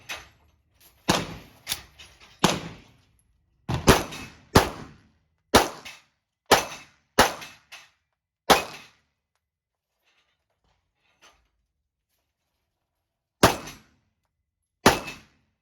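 Sharp individual gunshots from a handgun firing 115 grain plated flat point bullets, about a dozen loud close cracks in uneven bursts, then a long pause before two more shots.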